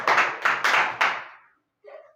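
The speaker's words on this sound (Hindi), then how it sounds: "इसके लिए ताली बजाओ।" Hands clap in a quick burst of about four sharp, close claps in a classroom, followed by a brief pause and a faint trailing sound.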